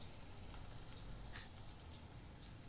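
Whole and ground spices, turmeric, red chilli and coriander powder, frying in oil in a pan for a matar paneer masala, giving a steady soft close sizzle with faint ticking crackles and no talk.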